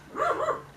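A dog gives a single short, close bark, a quick double-peaked yip lasting under a second.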